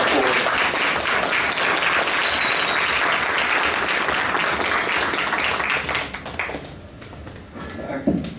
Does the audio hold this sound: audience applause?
yes